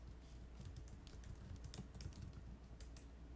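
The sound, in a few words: typing on a computer keyboard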